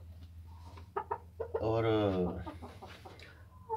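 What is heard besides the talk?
Ayam Cemani rooster clucking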